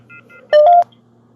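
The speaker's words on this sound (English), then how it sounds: "I'm using the ghost tube app on a phone. I connected it to a speaker so you guys could hear it better." A ghost-hunting app on a phone plays through a connected speaker beside a hospital cemetery, giving a few short electronic tones, faint blips, then one loud beeping burst of about a third of a second over a low steady hum.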